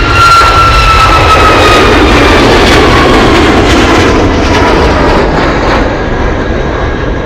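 A Boeing 747 jet taxis on a taxiway at Anchorage airport, its engines producing a loud, close, continuous roar with a high whine that slowly fades toward the end.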